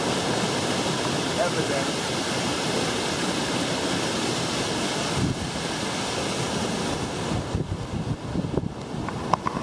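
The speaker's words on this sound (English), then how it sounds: "this is probably one of the more beautiful waterfalls that I've seen thus far" Pongour Falls in the Central Vietnam Highlands roars as a steady, loud wash of falling water, with a voice speaking briefly over it near the end.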